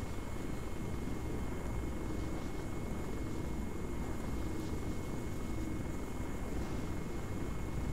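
A helicopter in the Arma 3 game flies steadily, its dense low rotor and engine rumble holding constant and loud throughout with no pauses.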